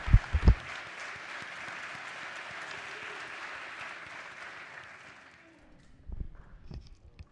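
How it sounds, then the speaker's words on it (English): An audience in a state House legislative chamber applauds in a dense, steady roar for about five seconds, then fades to a few scattered claps and thumps. "Mr. and Mrs. Ericott, will y'all please stand so they can cheer you on?"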